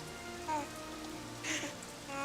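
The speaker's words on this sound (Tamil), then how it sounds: "மழையில நனையறது ரொம்ப நல்லா இருக்கு." Rain falls steadily on a surface, a soft continuous patter at low volume with a few slightly louder swells of dripping.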